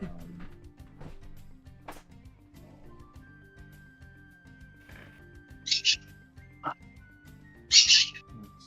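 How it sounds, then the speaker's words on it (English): A bird call sound effect, two short, bright chirping bursts a couple of seconds apart, standing out over a soft, droning musical backdrop. "Bird."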